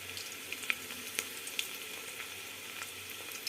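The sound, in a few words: ginger garlic paste frying in oil with onions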